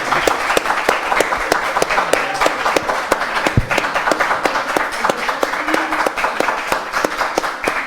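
Lively applause for contestants in a campus quiz game show, with crisp individual claps standing out over a busy crowd wash. It runs loud and close for several seconds, with faint voices murmuring underneath.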